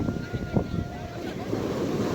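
Steady surf from a rough sea washing in, mixed with gusty wind buffeting the microphone and a few faint voices underneath.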